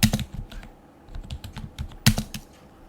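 Keys clatter on a computer keyboard while text is typed into a Word document, irregular bursts of clicks close up, with a louder flurry near the end and no talking.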